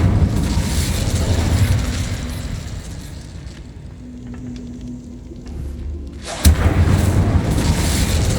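Incendio fire spell blasting in Hogwarts Legacy, a deep booming rumble that fades into quieter sparkling crackle, then a sudden sharp burst and renewed low roar near the end.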